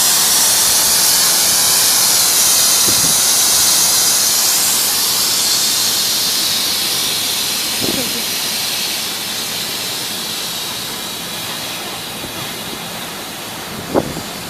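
A Bombardier train at Secaucus Junction's lower level gives a steady, loud hiss and rumble, like air and engine noise, that fades slowly over the span, with a few brief metallic clanks.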